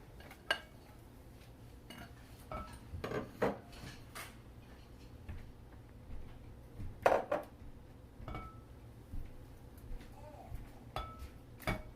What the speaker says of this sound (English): let's go ahead and mix everything all together.